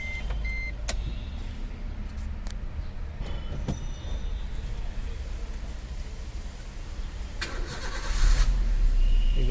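A Maruti Suzuki Ritz car engine cranks and starts after a newly coded key is programmed, with a steady engine rumble throughout and a louder surge near the end, close by and without talk.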